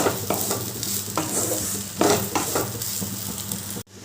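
A spiced potato-style filling stirred and frying in a pan, with a loud continuous sizzle broken by repeated scraping strokes of a spoon, close up and without talk.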